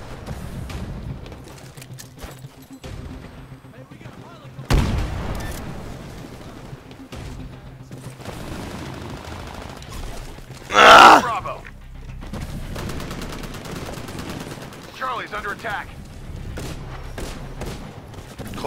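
Gunfire in the Titanfall video game crackles in bursts, with a loud burst in the middle and scattered shots and thuds, under excited speech.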